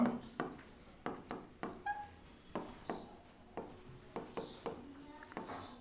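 Chalk strokes on a board tap and scrape in a steady rhythm of short bursts, close and moderately loud, with a teacher speaking Bengali in between.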